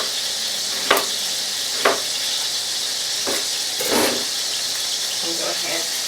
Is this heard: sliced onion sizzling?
yes